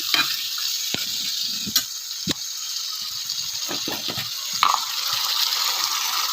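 Chicken pieces frying in a pan as pepper powder is stirred through, a loud continuous hiss with scattered spoon scrapes and clicks against the pan, close and without speech.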